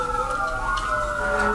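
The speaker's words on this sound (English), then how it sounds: "they put their sirens on and get down the road" An emergency vehicle siren wails steadily from outside a window, a sustained tonal sound at moderate loudness without speech.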